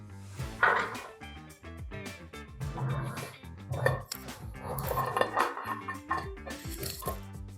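A plate is fetched and handled in a kitchen while making an orange sponge cake, with several clinks and knocks of dishes and cutlery, loud and close, spread through the moment with no talking.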